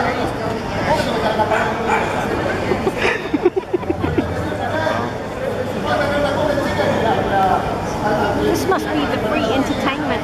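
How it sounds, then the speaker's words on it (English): A dog barks a few times amid a busy background of overlapping voices and chatter. "Oh, the puppy dog's barking in there."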